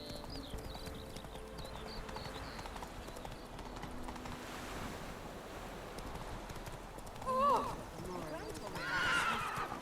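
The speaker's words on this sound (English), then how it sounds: "Don't run into a fucking tree, Roach." A horse gallops with rapid rhythmic hoofbeats in The Witcher 3: Wild Hunt, with a whinny rising partway through, all under someone talking.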